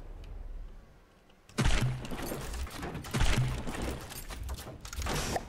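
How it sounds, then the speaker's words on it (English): Gunfire striking a ship in the naval combat game From The Depths, loud dense bursts of crashing impacts and booming hits after a quieter opening, continuing in waves throughout. "Which one of you clowns is firing at my ship?"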